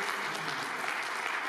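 Loud, dense applause from a conference crowd welcoming a California state senator, a continuous wash of many hands clapping for a second and a half with no voices on top.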